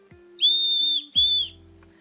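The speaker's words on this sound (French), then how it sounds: "est-ce que vous connaissez l'ombrelle sifflet?" Two shrill, steady blasts from an umbrella whistle, the first longer than the second, sounded close and loud with short clicks between them.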